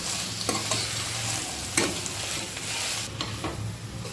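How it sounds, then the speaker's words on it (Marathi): Chopped raw green tomatoes stirred through hot oil in a pan, a steady close sizzle with a few sharp scraping strokes of the spoon, no voices. "आता आपण चिरून घेतलेले कच्चे टोमॅटो घालायचे आहेत आणि मिक्स करून घ्यायचे छान"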